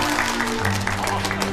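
Students applaud to greet a visitor in a classroom, a continuous wash of clapping with a low hum underneath and no clear speech.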